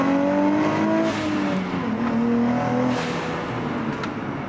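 A Nissan Z with an upgraded exhaust revs and accelerates close by, its raspy engine note climbing in pitch, dropping at a gear change, then rising again.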